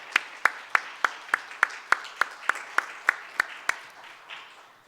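A church congregation gives a short round of applause, about a dozen slow, evenly spaced claps ringing in a reverberant sanctuary, fading toward the end.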